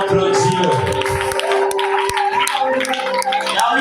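A church congregation claps and calls out in acclamation during a worship service, with scattered claps under raised voices and a sustained musical tone.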